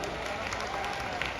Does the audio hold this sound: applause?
yes